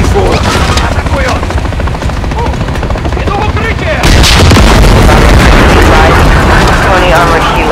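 A helicopter is shot down in Call of Duty Modern Warfare 3, with dense rotor thrum, heavy gunfire and booming explosions that grow louder partway through, as voices speak over the chaos.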